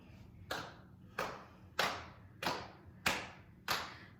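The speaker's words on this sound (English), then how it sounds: "So we're going to start by clapping." Six sharp hand claps land at a steady pace about every 0.6 seconds, each a crisp, fairly close slap with a short decay over a quiet room background, with no voices.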